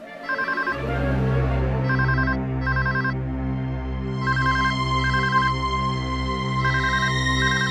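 Repeating electronic phone ringtone in short trilling bursts, sounding clearly over a droning musical background with no talking.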